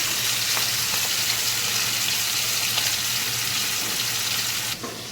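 Food fries in a pan, a loud constant sizzle with faint taps, ending in a brief clatter.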